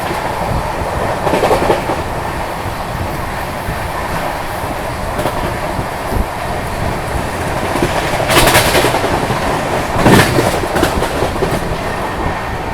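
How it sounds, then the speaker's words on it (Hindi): Brahmaputra Mail train overtaking a passenger train, a loud steady rumble of rolling wheels with clickety-clack rhythm close by, and two sharp bursts of passing rush partway through. "अभी देखो किसी पैसेंजर को ओवरटेक मार दिया यहाँ पर ब्रह्मपुत्र मेल ने।"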